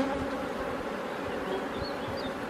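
Honey bees swarm around their hive, many carrying rapeseed pollen, producing a steady, dense buzz that hums evenly throughout with no voices.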